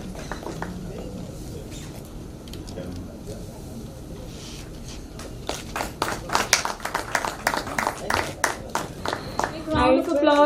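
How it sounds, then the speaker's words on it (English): Audience at an agrifood stakeholders' consultation meeting in Odisha applauding delegates, scattered claps building from sparse to denser and closer, with room noise and brief voices before and at the end. "Round of applause for these delegates"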